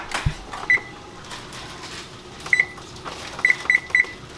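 A kitchen oven's control panel beeps as it is set to preheat, short electronic tones: one early, then a pair, then three quick beeps near the end, over faint background clatter.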